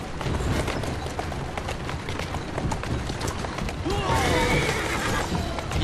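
A horse whinnies in Assassin's Creed Syndicate, its rising neigh cutting in near the end over a constant bed of clattering hooves and rough street noise.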